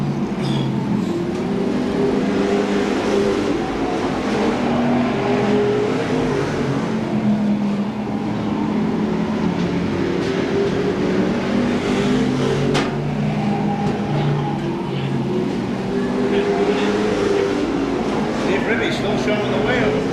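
Stock cars race at Seekonk Speedway during weekly racing, engines roaring in a constant, loud drone as the field passes, with a crowd and track ambience mixed in.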